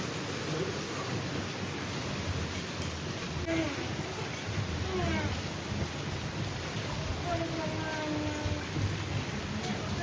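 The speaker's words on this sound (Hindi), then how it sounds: "ये देखो भाई, बारिश हो रही है, कितनी ज्यादा बारिश हो रही है।" Heavy rain pouring down outdoors, a constant dense wash of hiss with faint chirps, steady in loudness throughout.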